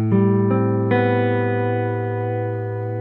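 A clean electric guitar through a pedalboard plays three chord strums in quick succession, the last one left ringing and slowly decaying, bright and sustained with no talk.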